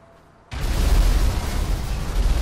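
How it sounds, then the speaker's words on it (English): Cars exploding in the Grande Sonora Desert: a sudden heavy boom breaks in and rolls into a sustained, loud roaring rumble with no talk over it. "Explosion in the Grande Sonora Desert."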